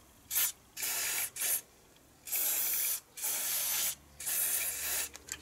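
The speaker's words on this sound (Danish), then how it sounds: "Der har jeg sådan noget, I har set mig bruge det før, det er sådan noget hvidt sprayfedt." Short hissing bursts of white spray grease from an aerosol can, applied while changing the engine-to-gearbox V-belt on a Partner P125107H garden tractor; five close, loud sprays of about half a second to a second each, separated by brief pauses, with no talking.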